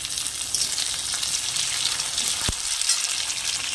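Spices fried in a pan with tomato for a Bengali pumpkin ghonto sizzle in a continuous bright hiss, broken by one brief sharp knock partway through.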